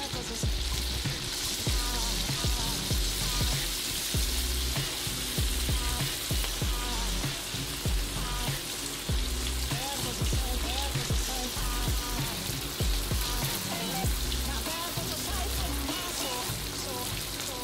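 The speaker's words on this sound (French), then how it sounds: "Mon huile est déjà chaude, je vais déjà tremper mes samoussas directement dans l'huile." Steady dense crackling and sizzling of shrimp samosas frying in hot oil, continuous and close throughout, with no talking.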